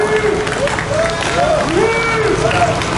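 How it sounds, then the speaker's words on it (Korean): Crowd applause at a political rally in Bundang, a steady wash of clapping that runs the whole time while a voice carries over it. "다시 한번 박수를 보내주시기 바랍니다"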